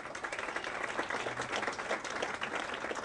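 Applause from an audience at the Pedro Pietri Hand Awards ceremony, dense continuous clapping from many hands that holds steady and fairly loud for the whole stretch, with no voices over it.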